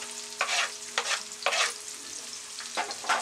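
Chopped onions and green chillies fry in a pan and are stirred until browned, giving four or five close, distinct scraping bursts over a continuous soft sizzle.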